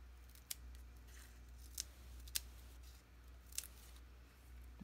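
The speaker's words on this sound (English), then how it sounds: "get my yucky scissors to cut this" Scissors cut through craft material in a quiet room, making four separate sharp snips spaced about a second apart against a low hum, with no talking.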